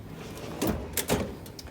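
A toolbox drawer slides open in a couple of quick bursts of metallic rolling and clatter, close by and moderately loud, with no talking.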